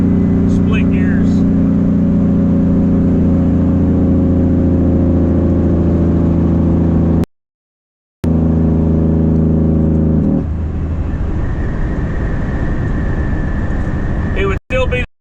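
A truck with a 10-speed transmission drives through the countryside, its steady mid-range engine drone loud and continuous, shifting tone partway through, with someone talking over it.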